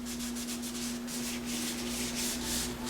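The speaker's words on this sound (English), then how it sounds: "So I'm just wiping this with a cloth here" A cloth rubbing against the rubber bobbin winder tire and wheel of a vintage Singer 206K sewing machine, a steady close, quiet scrubbing with soft repeated strokes over a constant low electrical hum.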